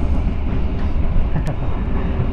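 Steady, loud rumbling roar inside an economy-class carriage of the KA Sritanjung train, near the vestibule, with continuous wheel and track noise filling the space and no voices.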